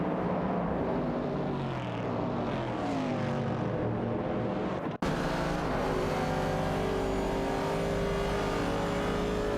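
Racing cars in a video game, a Ford Falcon and a 1970 Chevrolet Camaro among the pack, drone with steady engine roar and rising gear pitches, a brief cut midway, then continuing loud and close.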